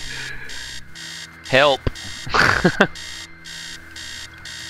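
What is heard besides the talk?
alarm clock ringing in video game Stories Untold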